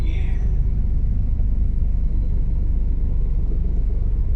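Car in heavy traffic at a plaza in Laguna, a steady low road rumble and engine drone filling the whole stretch, with a brief faint higher tone near the start.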